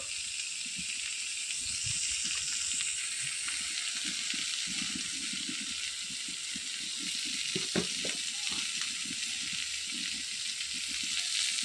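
Onions sizzle and fry in a pan over a wood-fired stove for egg curry, a steady close hiss with soft scraping and stirring sounds throughout.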